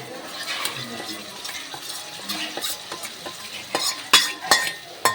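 Spices sizzle in hot oil while tempering yogurt for vagharelu dahi. A soft frying hiss sits under scattered clinks and scrapes of a spoon against the pan, with a few sharper metallic taps near the end.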